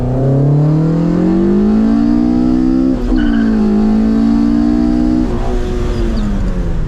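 A car engine pulls hard in second gear, loud and close, its pitch climbing steadily, with a brief dip partway before it climbs again as the car heads into a curve.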